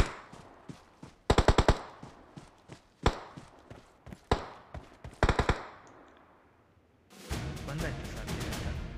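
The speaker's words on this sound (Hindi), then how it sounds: "वैसे गोली चलने की आवाज़ तो आ रही है" Bursts of rapid gunfire in the video game PUBG Mobile crackle repeatedly between quieter stretches with scattered shots and footsteps, ending in a sustained loud rattle.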